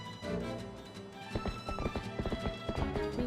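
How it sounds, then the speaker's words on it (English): A horse gallops in The Legend of Zelda: Twilight Princess HD, its hoofbeats a rapid rhythmic clip-clop over game music, moderately loud and drawing nearer. "Oh, it's a horse!"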